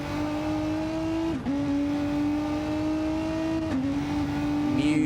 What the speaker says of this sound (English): This passenger cam, just stop and listen to this car.